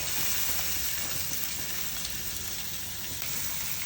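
Sliced onions sizzle steadily in hot coconut oil for a homestyle mushroom curry, a dense, continuous frying hiss that stays loud and even throughout with no talk.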